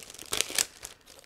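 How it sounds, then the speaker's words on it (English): Gray plastic bag holding sprues for an Eduard 1/48 Red Tails model kit crinkles and crumples as it is opened, two brighter rustling bursts followed by softer handling, close and alone. "I'm going to open this gray plastic bag."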